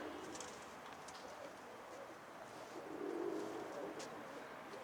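Pigeons coo softly amid steady outdoor background noise, with a fuller, slightly louder cooing burst about two-thirds of the way through.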